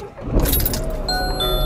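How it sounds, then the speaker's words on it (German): A car engine cranks and catches, with a broad low rumble starting about a third of a second in and settling into a steady idle. A faint jingle like keys comes near the start. "ich starte jetzt mal das Auto."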